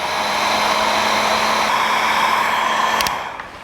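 Steady close whoosh of a heat gun shrinking heat shrink tubing over a soldered wiring connector on a 1949 Chevrolet gasser, running evenly before clicking off near the end.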